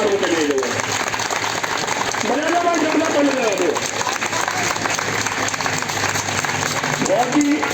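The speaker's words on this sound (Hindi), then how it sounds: "जोरदार ताली बजा दो" Loud, sustained applause from a crowd at a protest rally of MTS (PH) workers, a dense wash of clapping running through the whole stretch while a voice speaks over it at times.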